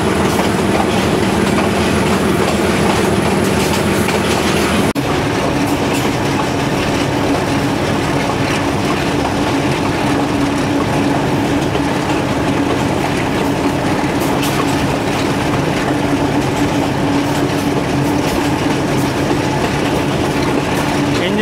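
Passenger train running on rails near the Seven Sisters tunnels, a loud continuous rumble with rhythmic clickety-clack of wheels over rail joints, heard close and sustained throughout.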